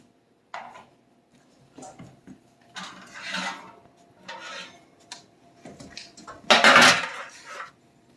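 A pan of roasted pumpkin seeds coming out of the oven: metallic scrapes, rattles and clanks of the tray in bursts, with a loud clattering rush toward the end.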